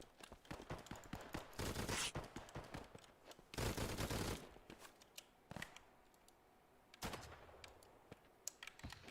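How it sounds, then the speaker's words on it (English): An MG42 machine gun fires in a World War II-style video game with Germans, loud rapid bursts separated by quieter stretches and scattered sharp shots. "let's get this MG42"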